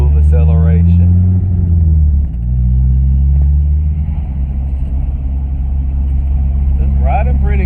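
A 1996 Chevy S10 drift truck accelerates with a deep, steady engine rumble heard from inside the cab, loud and continuous, while someone talks briefly over it.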